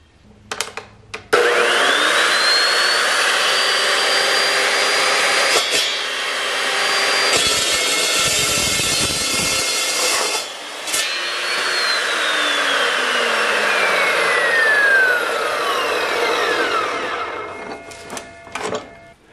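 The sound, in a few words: chop saw cutting metal PTO shaft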